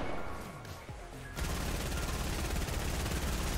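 Rapid close-range gunfire in a battle royale video game, starting as a few shots and then bursting into a loud, continuous automatic volley.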